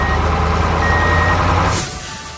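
An animated orange truck loading fossils backs up, its reversing alarm beeping steadily and loudly over a low engine rumble before the sound drops away near the end.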